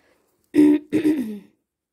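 A single person clears their throat in two short, raspy bursts, close up, with silence before and after.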